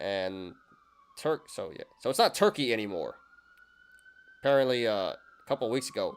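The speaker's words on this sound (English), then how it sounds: "Sorry about the sirens, guys." A police siren wails steadily in the background while a person talks over it, its tone rising and falling beneath the speech.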